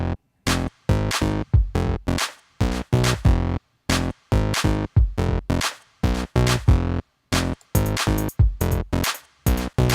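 Punchy electronic music track with a sharp clap layered under the beat, steady rhythmic hits repeating loud and upfront with brief gaps between phrases.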